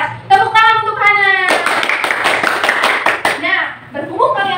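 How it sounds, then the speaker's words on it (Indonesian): A classroom of children claps for a student during a primary-school microteaching lesson: a close, dense burst of hand claps lasting about two seconds. A teacher's voice comes before it and young voices follow. "Tepuk tangan untuk Hana."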